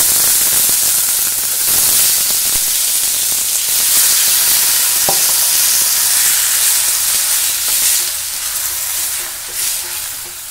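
Sago pearls fry in ghee with a loud, steady sizzle and hiss, under an occasional stirring scrape and soft clatter, close at hand.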